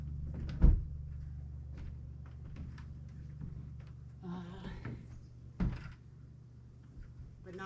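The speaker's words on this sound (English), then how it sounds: "You want me to pick the ladder up when you move it so it slides and doesn't clunk as much?" A metal ladder on a Tepui rooftop tent slides and clunks against the vehicle in a few sharp knocks with scraping between them. Voices talk quietly in the background.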